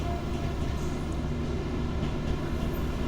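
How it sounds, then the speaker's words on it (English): Train in the Train Sim World 2 London commuter route, a steady rumbling rail roar with constant wagon and track noise, heard as the train heads toward the viewer. "you can just go back quite a way and just watch a train heading towards you"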